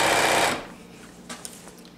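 A home sewing machine runs a loud, steady burst while stitching pants around a corner seam, then stops abruptly about halfway through, leaving faint handling clicks.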